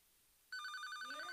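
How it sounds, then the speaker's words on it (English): A telephone rings with an incoming call, its electronic ring tone starting abruptly and sounding loud and steady, with a faint rising tone entering underneath toward the end and no talking. "we got a phone call coming in here"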